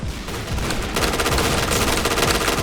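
Rapid automatic gunfire from a first-person shooter game, loud and continuous with dense bursts that grow heavier partway through, with no talking.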